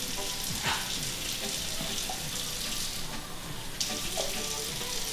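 Water is poured into a pan of desi-style spiced chicken that is frying, and a steady sizzle and watery rush fill the whole stretch with a few clinks and stirs.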